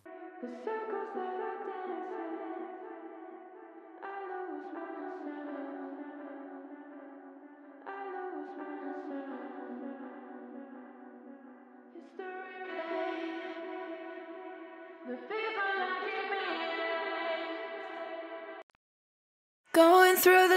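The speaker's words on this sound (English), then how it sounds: "This effect, called 28B in his mixing template, adds distortion to the effect underneath the main vocals." Sung vocal phrases run through distortion, delay and spring-style reverb, giving a sustained, echoing, slightly gritty tone in several held phrases, with a brief louder burst at the very end.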